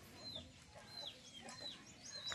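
Chickens clucking and calling faintly in the distance, scattered squawks over a soft outdoor background.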